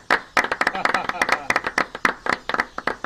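Rhythmic clapping from a gathered crowd at a ceremony, sharp hand claps repeating steadily for a few seconds, close and fairly loud.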